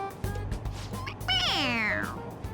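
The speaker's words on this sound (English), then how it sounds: "It meows when you press on its head." A stuffed toy cat meows when its head is pressed in Persona 5 Royal, giving one long, clear, rising-then-falling synthetic meow that follows brief voices and low background music.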